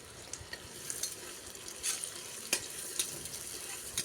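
Two large chopped onions are fried in oil in a pressure cooker, with a soft sizzle and light scraping clicks as they get mixed, close and fairly quiet, with no talking.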